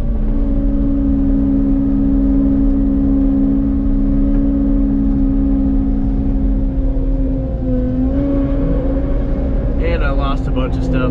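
A Caterpillar 289D3 compact track loader fitted with a mulcher and grapple drones steadily nearby, its engine note shifting slightly near the end, while a person talks over it.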